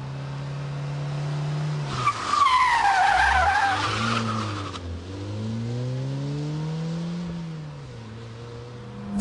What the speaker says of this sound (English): pull the handbrake, get the clutch, and power out of it